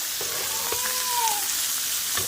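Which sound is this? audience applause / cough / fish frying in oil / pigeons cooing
fish frying in oil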